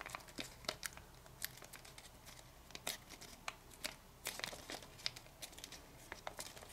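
Paper being folded into an origami portrait, with a swivel fold, makes quiet, close crinkling and crisp rustles in quick irregular bursts.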